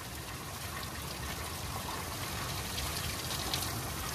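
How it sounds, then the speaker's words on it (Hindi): Water flows steadily at a hot spring in Bageshwar, Uttarakhand, a continuous close trickling and gurgling stream that holds an even level throughout with no voices. "गर्म पानी का स्रोत है"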